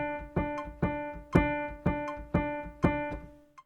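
A pitched instrument plays a crotchet triplet rhythm, seven evenly spaced sustained notes with sharp attacks, each decaying before the next, clear and alone.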